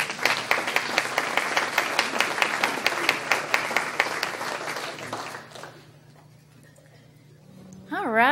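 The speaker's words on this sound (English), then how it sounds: "you ought to give all yourselves a real round of applause" An audience clapping in a dense round of applause for about five seconds, fading out into room quiet before a voice starts speaking at the end.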